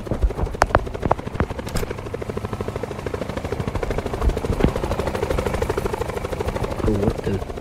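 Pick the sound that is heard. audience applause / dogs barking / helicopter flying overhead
helicopter flying overhead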